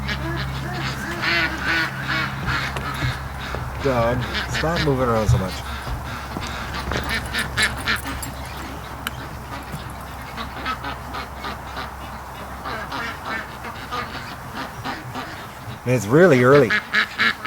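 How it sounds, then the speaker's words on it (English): Ducks coming home hungry from the lake quack in bursts, a few close calls early and a loud cluster near the end, mixed with a person talking and background shuffling. "ducks coming home from the lake."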